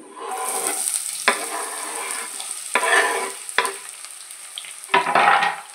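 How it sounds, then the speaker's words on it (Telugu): Onions and a bay leaf fry in hot oil, a steady close sizzle broken by several louder bursts of stirring and scraping in the pan. "వేసుకొని బాగా ఫ్రై చేసుకోవాలి. ఉల్లిపాయలు బాగా వేగాలి"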